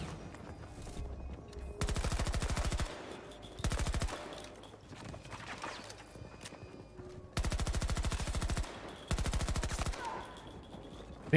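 Bursts of automatic gunfire in the video game Battlefield 2042, several separate volleys of rapid shots alternating with quieter gaps of background game sound.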